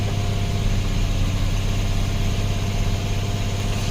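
A 2007 Infiniti G35 engine idles steadily and close by, a continuous low hum with no voices over it.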